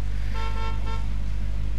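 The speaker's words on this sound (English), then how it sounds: "Somebody's honking his horn at me, go away." A car horn honks in a bus driving video game, a sustained tonal blare sounding in two pulses over a steady low engine drone, loud and close.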